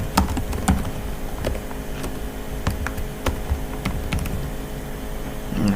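A computer keyboard being typed on during account setup while entering a full name, with quick irregular key clicks in short bursts and pauses, close and fairly quiet.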